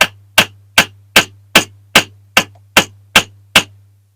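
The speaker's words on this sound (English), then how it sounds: "Just hammer away gently" Ten sharp metallic hammer taps on a small die-cast Dinky Toys 470 Austin Van during restoration, evenly spaced about every 0.4 seconds, close and ringing, with a steady low hum underneath.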